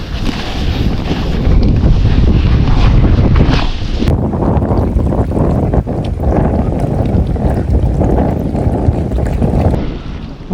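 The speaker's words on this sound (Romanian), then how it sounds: "îmi bate și vântul din față" Strong wind buffets an outdoor microphone beside the water on a fishing trip at a private lake, a loud continuous roaring rumble with gusty surges and no talking.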